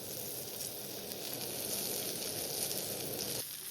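Surmai (kingfish) fries in a pan with a steady, close sizzle that holds at an even level throughout.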